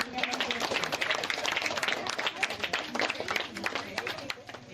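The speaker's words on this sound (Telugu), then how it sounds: "మన గ్రామంలోకి వారికి ఘనంగా చప్పట్లతో స్వాగతం స్వాగతం" Applause and clapping from a village crowd of youth, children and women welcoming a Bigg Boss guest in Begumpet, dense and steady throughout and mixed with crowd noise and chatter.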